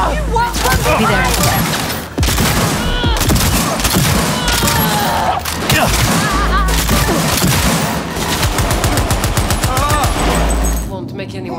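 Loud, sustained automatic gunfire in the video game Cyberpunk, with rapid bursts and heavy booming shots filling most of the stretch and brief pauses between volleys, game voices mixed in.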